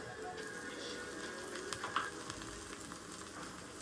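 Garlic paste fries in a pan for a chicken dish, giving a steady, moderately quiet sizzle with a few faint stirring scrapes and no talk over it.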